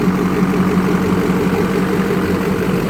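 An LBZ Duramax diesel truck idles low and steady just after an exhaust repair, a close, even rumble with no voices over it.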